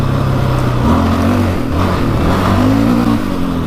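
A 700cc quad ATV engine revving close by, a loud continuous rasping roar with rising and falling pitch as the throttle is worked, with no voices.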